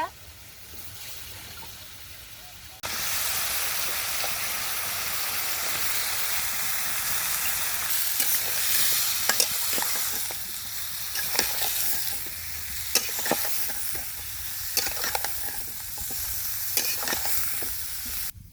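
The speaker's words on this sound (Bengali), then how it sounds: "মশলার নগে কুমড়াটা ভালোভাবে মিশিয়ে নিছন" Cut pumpkin pieces are stirred into spiced paste in a frying pan, with a steady loud sizzle and repeated scraping stirs that begin after a quiet opening.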